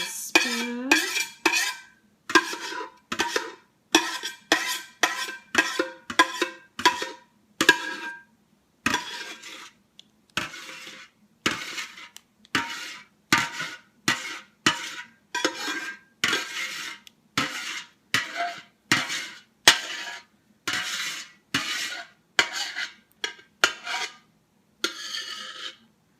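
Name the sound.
spoon scraping soap mixture from a container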